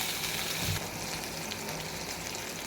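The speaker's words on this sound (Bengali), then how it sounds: "মরিচ মরিচ পেঁয়াজ লাল লাল করে ভেজে নিয়েছি, এরপর আদা রসুন দেবো।" Chilies, onions, frozen ginger and garlic fry in a pan, a dense steady hiss of hot oil that briefly swells near the start, then holds even, with no speech.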